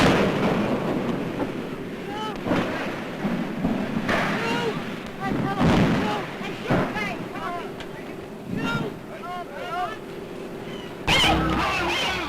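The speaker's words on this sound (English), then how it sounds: "you're about to see the pictures he got when the ship exploded" A 1937 newsreel of the Hindenburg airship exploding and crashing, heard as a steady rushing roar with bursts and rumbling crackle throughout, old film noise underneath.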